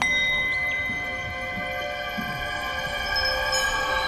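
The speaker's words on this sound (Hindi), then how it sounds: "यहाँ चारों तरफ घंटियां बंधी हैं।" Bells tied all around a place chime together in the wind, a sustained shimmering ring of many steady tones with occasional brighter strikes, continuous and fairly loud with no voices.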